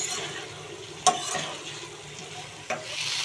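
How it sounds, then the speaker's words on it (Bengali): Lentil fritters are stirred and sautéed with potatoes and spices in a pan, giving a soft, steady sizzle with two sharp spoon knocks against the pan, brief and close. "এগুলো ভালো করে নাড়াচাড়া করে নেবো বড়াগুলো আলুর সাথে মশলার সাথে ভালো করে কষিয়ে নিলে"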